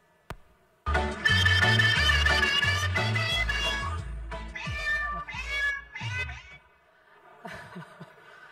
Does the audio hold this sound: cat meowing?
yes